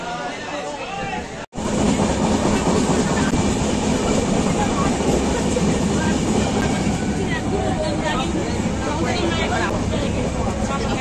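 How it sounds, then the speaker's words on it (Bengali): Anand Vihar Express pulling out of Santragachi station, heard from a crowded general coach as a loud, continuous rumble of wheels and carriages after a brief cut, with voices chattering on top throughout. "এইমাত্র সাঁতরাগাছি স্টেশন থেকে আনন্দ বিহার এক্সপ্রেস রওনা দিল প্রয়াগরাজের উদ্দেশ্যে।"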